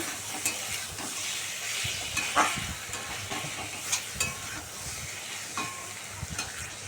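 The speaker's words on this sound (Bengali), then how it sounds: "এখানে মশলার সাথে আলু আর পটলটাকে খুব ভালো মতন কষিয়ে নিচ্ছি" Potatoes and pointed gourd fry with spices in a pan, giving a continuous hiss and sizzle with repeated spatula scrapes and taps at irregular intervals, close and moderately loud.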